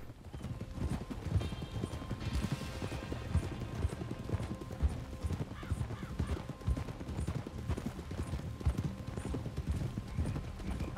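Horses clip-clop steadily through the Red Dead Redemption 2 game world, the hoofbeats close and continuous, with occasional snorts or whinnies mixed in.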